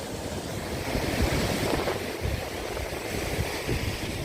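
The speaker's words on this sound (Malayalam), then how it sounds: "ഈ തിരമാല വന്ന് അടിച്ച് കണ്ടല്ലേ" Sea waves surge and break against shoreline rocks, a continuous broad wash of surf with swelling crashes, close and full, mixed with wind buffeting the microphone, no voices.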